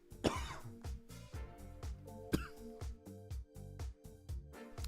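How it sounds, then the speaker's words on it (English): A series of rapid coughs and throat clearing, close up, in repeated bursts with brief pauses between them. "Cough came out of nowhere"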